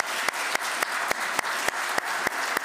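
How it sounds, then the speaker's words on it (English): A congregation claps during a church service, a steady wash of applause with sharp, evenly spaced accents about every quarter second, moderately loud and without talk. "I think the applause is for Andy for getting all the names right"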